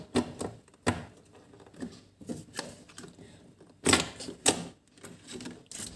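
Small magnetic balls are pried apart with a card, giving a run of sharp, irregular clicks and snaps up close, with a couple of louder clacks near the end and quiet gaps between.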